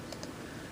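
A computer mouse clicked once or twice, giving faint, very short plastic clicks over a steady low hiss.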